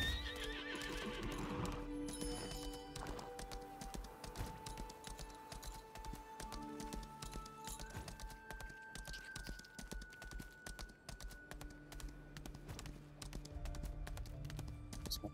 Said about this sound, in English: Let's get on that horse.